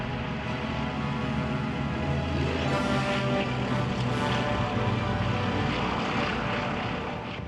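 A vintage propeller aircraft in flight, a steady, loud engine drone with a thick buzzing hum that holds evenly throughout and eases slightly at the end, with no voices.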